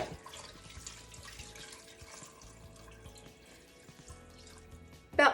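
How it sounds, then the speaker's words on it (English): Water pours steadily and softly into a pressure cooker pot while chicken and dumplings are being prepared, a continuous quiet trickle that ends with a brief louder clank. "Let me put a little bit more water in here."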